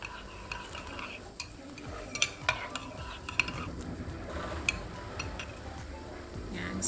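A spoon stirs a honey and chia seed drink in a glass, producing repeated light clinks and scrapes in an irregular rhythm over a soft background hiss, close by.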